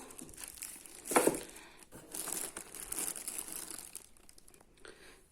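Plastic bags crinkle and rustle up close while unpacking an Electrolux Ergorapido cordless vacuum, with a louder crunchy burst early on, then steady handling noises that fade near the end.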